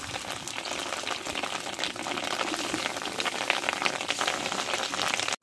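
Fish roe fritters fry in hot oil with a steady, dense sizzle and crackle like rain on a surface, loud and close throughout before cutting off abruptly at the end.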